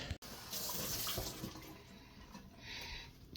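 A bottled beet, apple, orange and kale juice is poured into a glass, a close, continuous liquid splashing and trickling that follows a brief bump and tapers off near the end.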